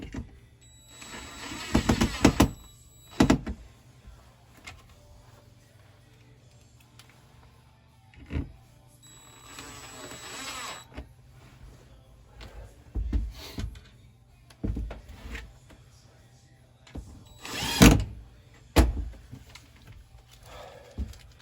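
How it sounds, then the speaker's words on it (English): A powered driver runs screws into the ceiling of an old hunting camper while LED light fixtures are installed, heard as several short whirring bursts separated by quiet pauses. "Run the screws in the ceiling here."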